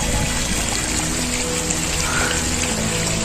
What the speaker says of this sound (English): hear the voice also, noise of the water.